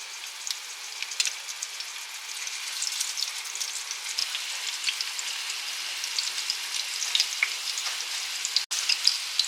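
Meatballs fry in a pan with a steady, close crackling sizzle dotted with sharp pops, heard alone without any voices.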